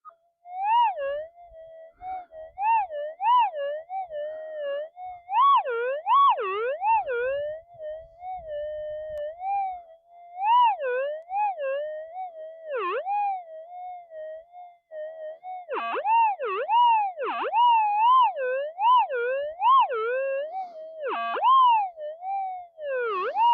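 A metal detector with a modified coil, swept over ground, gives a warbling electronic tone that rises and falls in pitch, pulsing irregularly in short bursts, clear and alone with pauses between sweeps.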